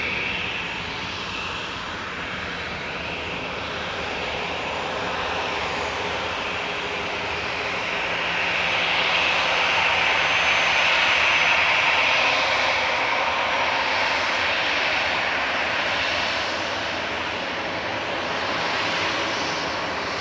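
An EasyJet Airbus A320 jet lines up on the runway at Manchester Airport, its engines giving a steady, distant roar with a hissing whine that swells slightly midway.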